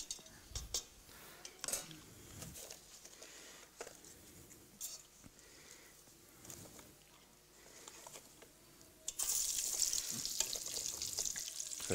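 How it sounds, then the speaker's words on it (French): Croquettes (chromeskis) deep-frying in hot oil at 170 degrees in a restaurant kitchen, with a loud, steady sizzle that starts partway through, after quieter clinks of pans and utensils. "On fait frire nos chromeskis."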